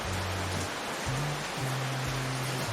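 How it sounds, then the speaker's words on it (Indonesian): Light drizzle falls on a front porch, a steady soft hiss of rain under a low humming tone, even and continuous with no voices. "sembari ditemani rintik hujan pada siang hari ini"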